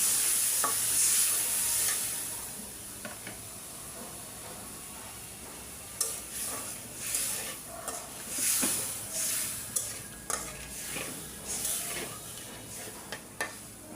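Spices sizzle in a pan with a splash of water from frying fish, giving a steady hiss broken by a series of scraping stir strokes that grow more frequent in the second half.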